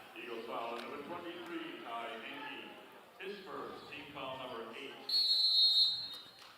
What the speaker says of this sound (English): Whistle and a timeout.